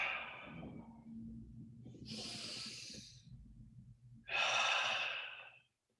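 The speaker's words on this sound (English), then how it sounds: "Breathing in through the nose" Deep breaths drawn in through the nose during a guided relaxation, a soft airy inhale followed by two longer, stronger rushing breaths, close and alone, ending in silence.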